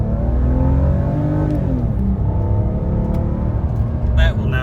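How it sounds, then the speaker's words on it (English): A BMW E46 330ci in sport mode revs and hangs, its engine drone holding high and then sinking slowly as the revs fall back, close and loud, with brief talking near the end. "that was pretty obnoxious rev hang"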